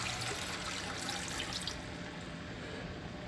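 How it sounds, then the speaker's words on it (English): Water pours steadily into a pot for a sweet potato red curry soup, a continuous close splashing rush. "right here, we'll add our 5 cups of water"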